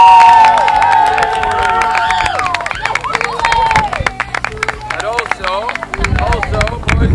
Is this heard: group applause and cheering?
yes